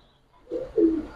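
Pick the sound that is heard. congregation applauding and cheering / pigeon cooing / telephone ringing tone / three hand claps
pigeon cooing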